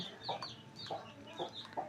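A few short, quiet clucks from Aseel gamefowl come one after another at a relaxed pace, nearby but faint.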